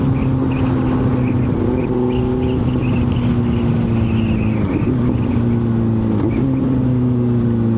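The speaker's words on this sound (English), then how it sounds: "Super crisp throttle though, by the way, super responsive." A Benelli 600 motorcycle engine running steadily with a droning hum that rises and dips slightly under throttle, heard from the rider's position, with no talk.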